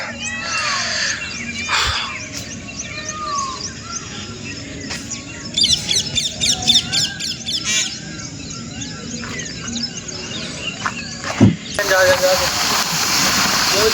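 A peacock's loud, wailing calls ring out several times over rain hiss and outdoor noise, with a sharp clatter near the end.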